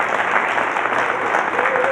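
Steady applause from a conference audience at a keynote address during an opioid abatement conference, a continuous wash of clapping at moderate level.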